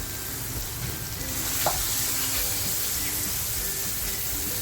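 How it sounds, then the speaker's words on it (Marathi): Grated tomato puree tipped into hot spiced masala for a tawa-fried surmai dish, giving a steady, close sizzle and hiss with light stirring throughout, loud and continuous with no talk. "मसाला खाली करपू नये म्हणून टॅमॅटोची जी प्युरी करून घेतली म्हणजे किसून घेतलाय तो टाकते"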